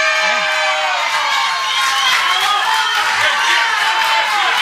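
A studio audience on the 1993 Argentine TV show Peor Es Nada fills the room with dense, steady applause. Cheering runs throughout as a continuous roar of clapping.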